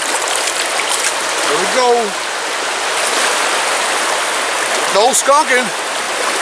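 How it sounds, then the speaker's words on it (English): High, muddy, fast-flowing creek water rushing loudly and steadily throughout, with someone speaking briefly over the roar. "Water's high, flowing big, muddy."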